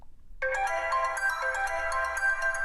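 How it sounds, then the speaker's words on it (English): A marimba ringtone plays on a ZTE Blaze ZMax phone, starting after a short silence with bright, clear mallet notes that ring on steadily. "So yeah, let me see marimba."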